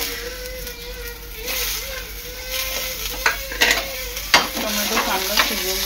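Tomatoes fry and are stirred in a pan with browned coconut for a mushroom masala, giving a steady close sizzle broken by utensil scrapes and a few loud clinks toward the end.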